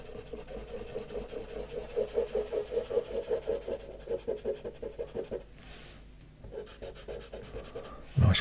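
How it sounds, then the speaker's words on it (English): An eraser rubs back and forth on paper during a pencil drawing, a close rhythmic scrubbing in quick strokes that stops, then resumes in shorter passes. "we can kind of use the eraser to kind of establish that all at the same time"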